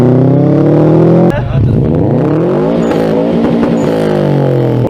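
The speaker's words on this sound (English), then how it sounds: "that polarizing Subaru rumble" Engine of a 2000 Subaru Impreza 2.5 RS: a loud, close, low boxer rumble holds steady, then dips briefly and climbs again as the revs sweep upward with strong harmonic tones, continuous throughout.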